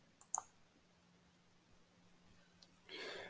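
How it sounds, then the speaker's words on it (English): A computer mouse gives a couple of faint, quick clicks close by in an otherwise quiet room, followed by a soft rustle at the end. "So now we just click on next."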